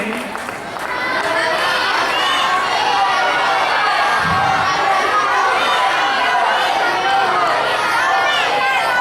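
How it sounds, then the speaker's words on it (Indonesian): An audience at a school show in Lhokseumawe, children and adults cheering, chattering and clapping in a continuous, lively din that fills the room for the whole stretch. "beri tepuk tangan kepada Turki Malawi"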